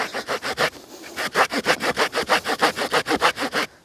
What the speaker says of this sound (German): Hier ist das Problem, dass ich halt nur von einer Seite, also von oben nach unten säge